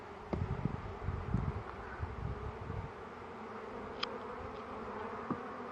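Honeybees buzz around a beekeeper handling them, a soft steady hum with scattered rustles and light knocks up close, no speech.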